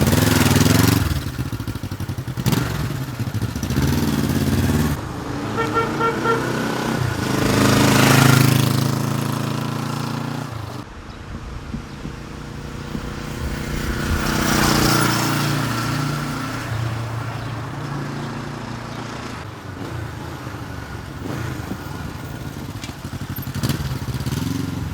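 A 1975 Honda CB450K7 motorcycle engine runs steadily close by, a loud continuous mechanical drone that swells and eases over time with some clattering texture.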